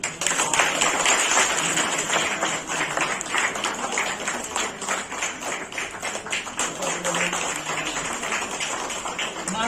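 Steady applause from an audience at a literary honour ceremony for a poet and novelist, a dense, continuous patter of many hands clapping, fairly loud and close, holding for the whole stretch without pause.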